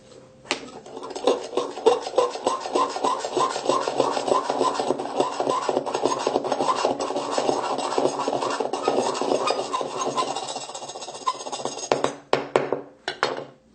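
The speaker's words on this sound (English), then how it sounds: "do kind of medium to harsh slices" A knife blade slices and scrapes in circular, medium-to-harsh strokes across the back of a black iPhone 7, a continuous close rasping rub with rapid repeated scratches, ending in a few separate scrapes.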